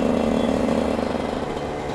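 Close, steady buzz of a 50cc two-stroke motorcycle engine running in fifth gear around 50 km/h, with a constant droning tone and road rumble beneath.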